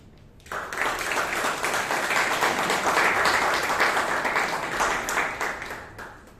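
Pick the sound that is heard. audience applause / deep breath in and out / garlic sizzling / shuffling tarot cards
audience applause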